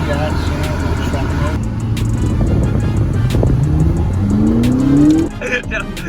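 A 2020 Dodge Challenger Scat Pack with muffler and resonator delete accelerates hard, its loud raw exhaust roar climbing in pitch through the revs before a sharp drop as it lets off, heard up close from inside the car.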